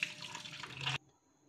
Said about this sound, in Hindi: इसमें ठंडा पानी डाल देंगे ताकि पास्ता चिपके नहीं